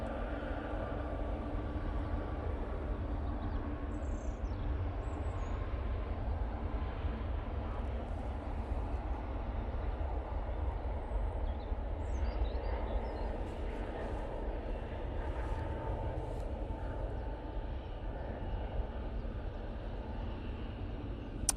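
A Ryanair Boeing 737 MAX on its takeoff roll on runway 05 left at Manchester Airport gives a steady, distant low roar of engine rumble that holds evenly throughout, with no voices.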